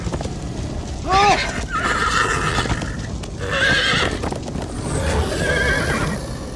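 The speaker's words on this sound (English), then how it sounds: "Slow down, horse!" A Minecraft Story Mode horse whinnies in sharp, rising bursts over a running bed of hoofbeats, with the neighs recurring three or four times and voices talking in between.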